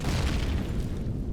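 Rail gun firing in Empyrion Galactic Survival, a deep sustained boom with a dense low rumble that holds steady for over a second, loud and close, with no talking.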